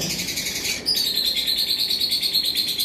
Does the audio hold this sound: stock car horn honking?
no